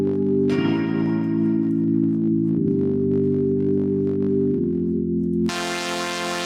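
Synthesizer tones from a free VST plugin, sustained buzzy chords that change pitch every couple of seconds, ending on a brighter, harsher sustained tone.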